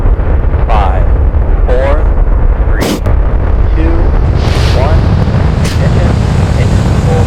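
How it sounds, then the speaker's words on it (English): A Falcon rocket ignites and lifts off on the CRS-28 mission in Kerbal Space Program. A loud, continuous broadband roar fills the whole stretch, with a voice talking over it. "Ignition, engine full power, and liftoff of CRS-28."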